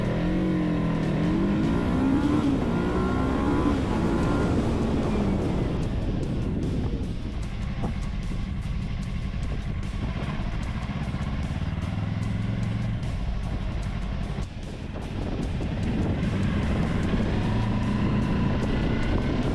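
A Yamaha R3 motorcycle pulling away in first gear up a winding hill, its engine rising in pitch as it accelerates. The steady, loud revving continues close by with wind noise throughout.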